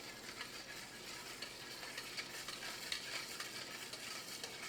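Chicken wings being stirred in brine: a steady, faint swishing and churning of liquid, continuous throughout with small clinks, no talking.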